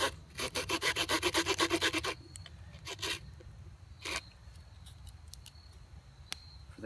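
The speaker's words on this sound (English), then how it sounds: "You cut a tiny groove." A knife carves a tiny groove in a wooden bow drill board outdoors, heard as a fast rhythmic series of close scraping strokes for two seconds, then a few separate scrapes over quiet background.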